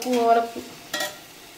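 Chopped capsicum is stirred in a pan for mushroom pasta, with a couple of quick scraping stir strokes over a faint, brief sizzle.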